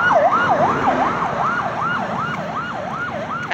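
A wailing ambulance siren rises and falls in rapid, regular cycles for several seconds, loud and near, over a low hum of passing traffic.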